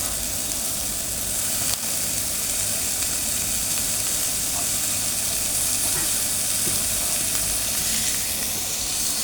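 Eggplant sizzles steadily in a hot pan while spring onions are tossed in, a dense, even frying hiss that runs close and loud with no break.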